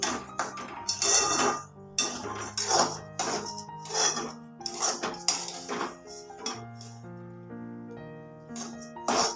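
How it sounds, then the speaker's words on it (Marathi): Semolina (rava) dry-roasting in a pan over medium heat, a spoon repeatedly scraping and clinking against the metal pan in an uneven stirring rhythm, close and moderately loud over soft background music. "आता हा रवा आपला जरा भाजून झाले चांगला त्याला तीन चार मिनिट आपण भाजूया"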